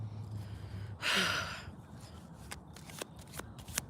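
A tarot card deck gets shuffled outdoors at a park, one quick riffling burst lasting about half a second, followed by faint handling noises and light ambient sounds.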